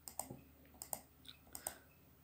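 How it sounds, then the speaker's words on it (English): Sharp clicks from a computer mouse button, arriving in close pairs of press and release about three times over a couple of seconds, faint and close with no talk. "Click means you have to click and release"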